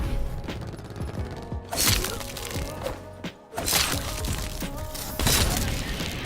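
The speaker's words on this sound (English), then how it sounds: "Concussion grenade out." A concussion grenade goes off in a Call of Duty Black Ops 4 match, sharp cracking bursts and a brief dropout followed by loud impacts amid ongoing game noise, with no talk.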